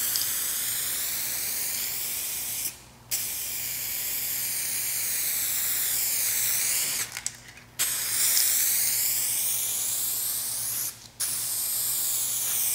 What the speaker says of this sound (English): you're spraying clear coat out of a spray can